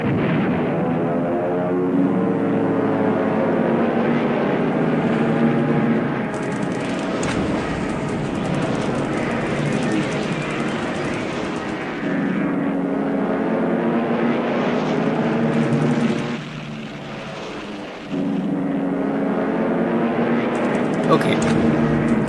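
Droning propeller engines of WWII Zero and Buffalo fighter planes dogfighting in a Pacific war video game, a dense steady roar over nearly the whole stretch, dipping briefly near the end.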